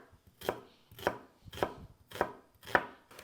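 Knife chopping half an onion on a cutting board for a fish stuffing, five evenly spaced firm chops about half a second apart, close and clear with no talking.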